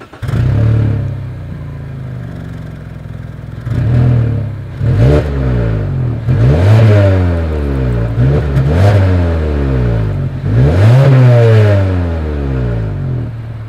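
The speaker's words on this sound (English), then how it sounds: "here is that exhaust clip" A 2020 Mazda 3's engine revs up repeatedly, several loud throttle blips rising and falling with a deep exhaust rumble, close and with no talking.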